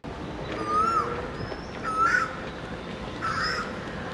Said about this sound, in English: It's amazing the numerous bird calls, no, that you hear